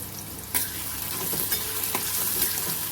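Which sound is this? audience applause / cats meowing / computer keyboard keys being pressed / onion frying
onion frying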